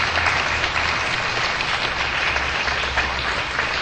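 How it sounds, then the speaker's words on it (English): An audience gives a panel a round of applause at a women's empowerment candlelight vigil in Glendale. The clapping comes as a dense, even wash of sound with a low hum underneath and no speech. "I think a round of applause for this fabulous panel"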